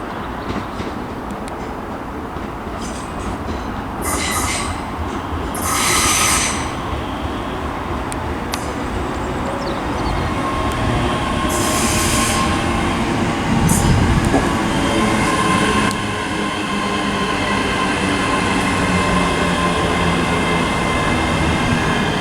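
An electric train rolls into platform 9 at Stirling station, a steady, continuous rumble of wheels and motors with occasional high squeals and hisses, close by and fairly loud throughout.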